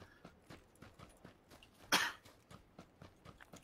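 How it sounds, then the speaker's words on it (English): A person coughs once, a single sharp burst midway through, over a quiet background of regular soft footstep-like thuds during a PLAYERUNKNOWN'S BATTLEGROUNDS gaming session. "now you've got me needing to cough."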